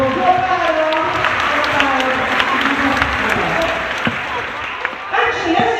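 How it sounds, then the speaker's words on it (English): A sea lion show audience gives a big round of applause: busy, loud crowd clapping with voices and cheers mixed in, lasting the whole stretch with a small swell near the end. "give them both a big round of applause."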